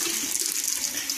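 A towel is dunked and sloshed in water for wiping off hair-removal cream, giving a brief, close, continuous watery rush and splash.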